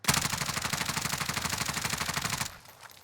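Groza assault rifle in the video game Warzone fires a rapid, continuous automatic burst of evenly spaced loud shots for about two and a half seconds, then stops abruptly, leaving faint background noise.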